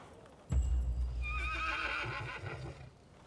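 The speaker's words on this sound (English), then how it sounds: "Use horse food to call a horse to your location." A horse whinnies loudly in the video game Rise of the Ronin, a long shrill neigh rising over soft hoof and ambient game sounds, close and alone for about three seconds.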